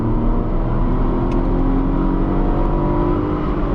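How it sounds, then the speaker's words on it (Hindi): A Tata Tiago car accelerates hard in first gear toward high revs, with a loud, steady engine drone heard from inside the cabin, alone without talk. "कम ऑन 6200 RPM पे फर्स्ट गियर,"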